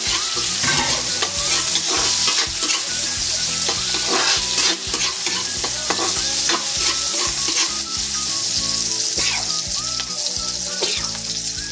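Onion, garlic and chili hit a very hot pan and sizzle loudly and continuously, with stirring clatter mixed in close up and no voices.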